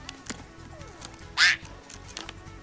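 A voice gives one short, loud, nasal duck-like quack in the middle, imitating a duck, set against faint background noise and a few soft clicks.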